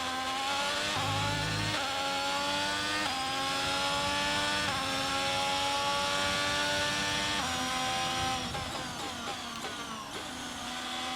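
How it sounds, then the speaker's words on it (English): Ferrari Formula 1 car engine from the F1 22 racing game at the Bahrain Grand Prix, a loud continuous high-pitched whine that stays steady, then shifts through gear changes and revving near the end, heard alone with no talking. "the Ferrari engine sounds, I mean, obviously it sounds different, but it's insane how different."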